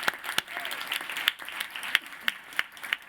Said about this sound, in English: Yes, let's applaud that.